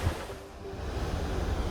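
Waves washing over a large flat rock shelf out at sea at Whistling Rocks in Australia, forcing air out of holes in the rock; a steady, continuous rushing surf with a windy roar, close and moderately loud, with no voices.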